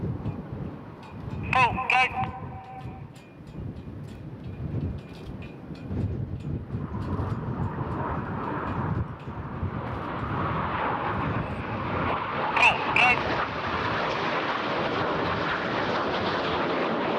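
Display jets of an airshow synchro pair roar past after a high-speed finale, a broad engine rush swelling and holding as they depart to the rear, with a commentator talking over it throughout.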